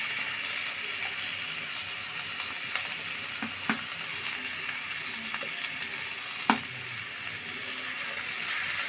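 Fish sizzles steadily in a hot pan with a continuous frying hiss, broken by a few soft clicks and one sharper knock near the end; no one talks.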